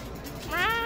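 A cat meows once, a short rising-then-falling call over a busy background of music and voices, moderately loud.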